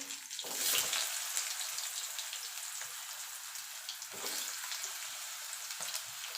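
Hissing, bubbling sizzle of potatoes frying in hot oil with a nigella-seed tempering, louder at the start and again midway, close up with no talking.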